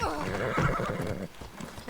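A horse neighs and whinnies in a game, with hooves clip-clopping and a voice talking alongside.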